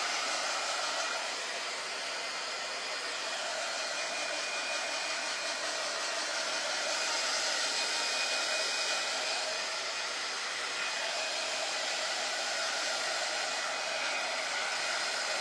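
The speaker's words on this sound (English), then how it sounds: "let me dry this a little bit" A hair dryer blows steadily at a craft piece, a constant loud whooshing hiss held close for about fifteen seconds without a break and with no voices.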